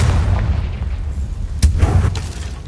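The Confringo fire spell in Hogwarts Legacy on PS5 bursts with a booming impact over a continuous low rumble, with one sharp crack midway and a fading roar after, no talking.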